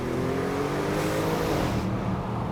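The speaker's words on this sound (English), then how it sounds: "This is really one of the most beautiful V8 turbo sounds I've ever experienced." An Audi RS6 C7 with a V8 turbo engine accelerating, a steady loud engine drone with rising harmonic tones heard from inside the car, then a slight drop near the end.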